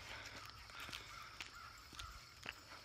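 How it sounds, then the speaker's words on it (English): A crow caws several times in short, separated calls at a moderate distance, harsh and repeated against quiet outdoor background, with no talking. "What does that little crow have to say"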